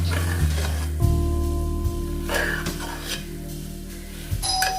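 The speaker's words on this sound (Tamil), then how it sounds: "உருளைக்கிழங்க போட்டு நல்லா வதக்கணும்." Potatoes are sautéed with ground masala paste in a pan for chicken curry, with a steady sizzle and occasional scraping stirs of a spoon against the pan, a constant low hum underneath.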